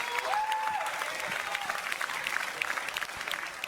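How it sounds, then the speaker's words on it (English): Audience applause at the Esports Industry Awards: a large crowd claps steadily and loudly for several seconds, with a brief whistle-like tone near the start. "Round of applause."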